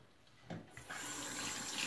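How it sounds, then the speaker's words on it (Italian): Water from a shaving bowl is emptied with a brush, a short quiet lead-in before the water starts pouring at about the half-second mark and then runs steadily and close until the end. "intanto io comincio a svuotare qua la ciotola dell'acqua col pennello"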